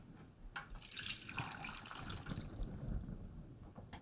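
Steamed rice cake batter poured from a bowl into a greased 8-inch pan, giving a steady close liquid stream with soft splashing that runs for several seconds without pause.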